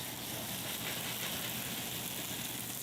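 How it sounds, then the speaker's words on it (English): A pump sprayer soaks wooden deck lattice with cleaning chemical, giving a steady, close hiss of fine spray that runs evenly through the whole stretch with no pauses or voices. "I'm gonna spray all the chemical on there."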